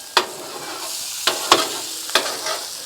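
Cabbage with sausage and shrimp fries on a Blackstone griddle with a steady background sizzle, broken by four sharp scrapes of a spatula against the flat top, spaced about a second apart.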